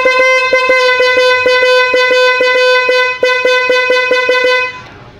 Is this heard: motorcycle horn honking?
yes